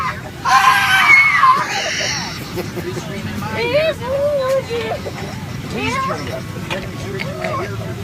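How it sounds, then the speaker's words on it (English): An unruly child on a transatlantic flight lets out a loud, piercing scream that starts suddenly and lasts about a second, then gives way to whiny cries and wailing over steady cabin hum and murmuring passengers. "That ear-piercing scream is an unruly child on a transatlantic flight to New York."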